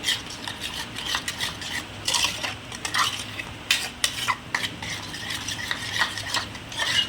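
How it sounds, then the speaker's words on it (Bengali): Mustard paste being mixed with salt in a bowl: a spoon scrapes and taps in a steady, irregular rhythm of close, soft clinks and swishes, with no talking. "সর্ষেটা মিক্স করে রাখবো একটু নুন দিয়ে"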